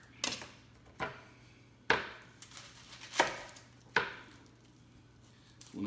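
An onion being chopped with a sharp knife while making jambalaya, heard as five or six crisp, evenly spaced knife strikes against a cutting board. The cuts are close and distinct over a faint steady hum, with no talking.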